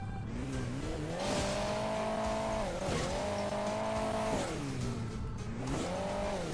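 A car engine in the mobile game Hill Climb Racing 2 revs up and down in repeated rising and falling sweeps. The revving is loud and continuous, with no voices.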